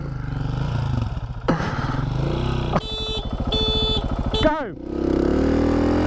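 An electric Zero FXS and a petrol 701 motorcycle launch side by side in a drag race. A throbbing petrol engine revs up through its gears with rising pitch, and a higher electric whine sweeps along with it, loud and close. A voice shouts briefly at the start.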